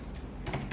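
Keys tap in a brief, quick cluster on a computer keyboard as a copy command is entered at a command line, close and fairly soft.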